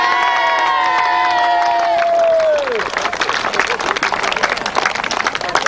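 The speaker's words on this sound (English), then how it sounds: "Give him a shout and a cheer" A grasstrack racing crowd cheers and claps for the winner of the sidecar final, a loud, dense swell of shouts and applause that builds after a strained vocal cry and keeps going to the end.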